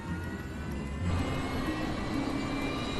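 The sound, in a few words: Fokker F-28 jet engine starting up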